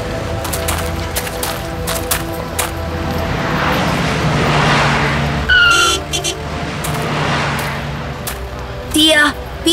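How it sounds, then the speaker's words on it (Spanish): A car skids on a road while a pedestrian is crossing, with a drawn-out screech of tires over steady engine and traffic noise and some voices around it, ending with short sharp squeals near the end. "Ese auto casi atropella al peatón que cruzaba la carretera."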